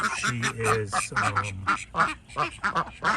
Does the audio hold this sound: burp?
no